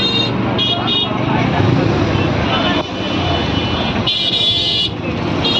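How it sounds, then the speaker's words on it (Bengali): Roadway traffic jam at Jobai beel in Savar during the Eid holiday crowds, with a steady dense engine rumble, car horns tooting repeatedly at close range, and people talking over the noise. "অলিখিত একটা যানজট সৃষ্টি হয়েছে জবই বিলে"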